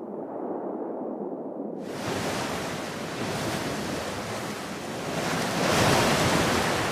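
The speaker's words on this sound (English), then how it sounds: "The sea constantly tries to tear down these new volcanic shores." Ocean surf breaks against a new volcanic shoreline, a loud, broad wash of waves that starts abruptly, then rolls continuously and swells louder toward the end, with wind buffeting the microphone and no voices.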